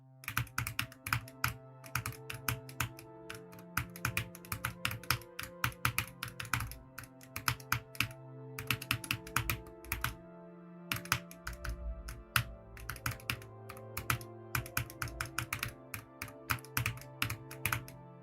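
Rapid bursts of key presses on a Wooting 80HE computer keyboard clatter up close during platformer gameplay, with dense flurries separated by short pauses over a quiet steady tonal background.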